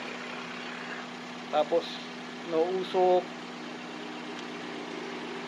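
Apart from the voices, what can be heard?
1996 Toyota Corolla engine idling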